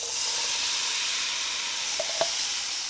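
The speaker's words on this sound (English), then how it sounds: "in this bowl I have onion, bell pepper, garlic, minced garlic, and andouille sausage, and I just cut it up into small pieces, and now I'm going to saute it" Andouille sausage, onion, bell pepper and minced garlic sautéing in a pan, an even, bright hiss of sizzling fat with a couple of faint clinks near the end.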